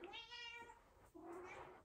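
Indoor cat meowing twice in quick succession, clear harmonic meows close by, fairly faint overall and with no talking.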